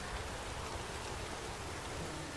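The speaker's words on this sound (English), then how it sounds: "Well, it is raining. Let it rain." Steady rain falls in The Witcher 3 game world, a dense, even hiss of drops on surfaces, loud and unbroken with no voices.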